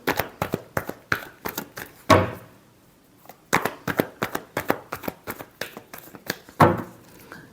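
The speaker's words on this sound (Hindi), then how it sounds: "Last shuffle." Tarot cards shuffled in rapid bursts of crisp riffling snaps, two long runs separated by a pause, each ending with a louder thump as the deck is squared, close and alone.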